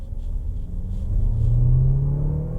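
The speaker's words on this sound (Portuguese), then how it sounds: "Pé no freio, vou acelerar, ver onde que é a rotação de stall" A Peugeot 3008 GT engine revs up against the brake in a stall speed test, a low rumbling drone rising steadily in pitch and loudness.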